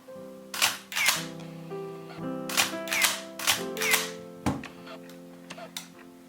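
Minolta X-700 film camera being handled, with a series of sharp mechanical clicks and shutter-release snaps spaced irregularly, close up and fairly quiet, plus small tonal whirs between them.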